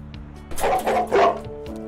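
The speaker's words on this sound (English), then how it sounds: "I don't know what they're barking at." Three quick barks from dogs in an animal vet hospital simulation game, clear and fairly loud, spaced closely together over a low steady background hum.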